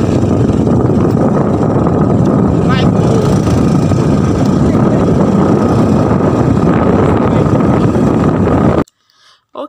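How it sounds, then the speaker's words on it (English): Motorcycle taxi riding along a road: a loud, steady engine drone with rushing wind noise that cuts off abruptly near the end. "we flagged down a bike and our journey began"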